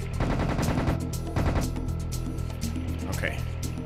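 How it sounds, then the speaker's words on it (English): Rapid automatic gunfire in the Serious Sam HD The Second Encounter video game, bursts of shots layered with game sounds and someone talking over it. "Let's just shoot him."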